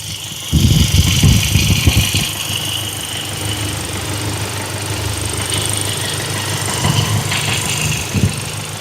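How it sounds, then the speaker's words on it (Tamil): A 2020 Hyundai Creta SX diesel SUV engine idles steadily with a constant hum and fan whir, a louder rumble at the start. "இப்போ இன்ஜின் ஆன்ல இருக்கு. அந்த ஃபேன் நாய்ஸ் உங்களுக்கு கேட்கும் அப்படின்னு நினைக்கிறேன்."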